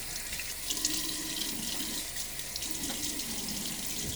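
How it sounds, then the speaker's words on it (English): Running cold hard tap water pours steadily into a sink, with soft splashes and trickles close by as water is splashed on a face before a shave, and no talking. "Let me throw a little bit of water on my face."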